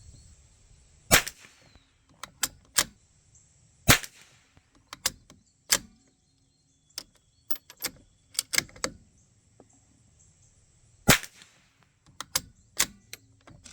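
A Savage MKII .22 rifle fires SK rounds outdoors, giving short, sharp cracks at irregular intervals with faint mechanical clicks between them against quiet background noise.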